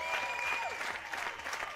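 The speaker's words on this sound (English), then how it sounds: "We'll just let the applause die down." Crowd applause rolls on at a canoe marathon world championships podium ceremony for the senior K2 race, a steady, moderately distant clatter of many hands with a few whistles and a faint voice mixed in.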